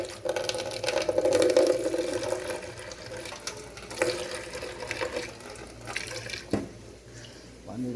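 Water running from a tap in a home kitchen, a steady splashing flow that continues under soft clatter and nearby movement.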